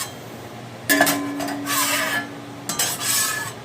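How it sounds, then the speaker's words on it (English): A spatula scrapes across the surface of a 21-inch VEVOR griddle after cooking bacon burgers, making two rough metallic scraping strokes up close, each a second or more long, over quiet background. "when I'm done cooking, I scrape it"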